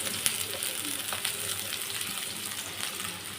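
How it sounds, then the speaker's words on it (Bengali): Oil sizzles in a pan for cooking chopped helencha greens, a steady, close frying hiss with occasional small crackles and pops, alone and without speech. "তো আমি এখন তেল দিয়ে দিচ্ছি।"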